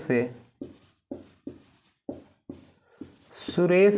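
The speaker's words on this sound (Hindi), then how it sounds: "अच्छा एक ठो और लिखते हैं, जैसे यहाँ पे लिखते हैं रमेश सुरेश" Short separate scratchy strokes of writing on a board during a maths class come in a loose rhythm, close and clear, and a voice speaks briefly at the end.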